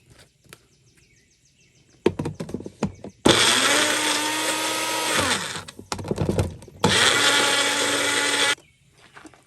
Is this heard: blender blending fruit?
yes